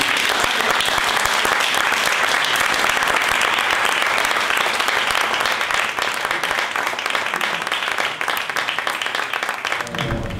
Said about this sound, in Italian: io farei un grandissimo applauso